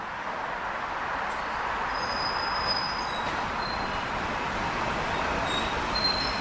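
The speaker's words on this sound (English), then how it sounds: "See the subway emerging from the tunnel under the East River." An N or Q subway train rumbles steadily along the rails on the Queensboro Bridge over the East River, with faint high metallic squeals from the wheels riding over the continuous roar.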